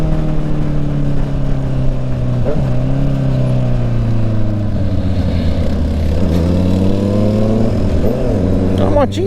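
A Honda CB650 motorcycle engine rumbles loudly and close, revving up and down in several swells with a deep steady exhaust note.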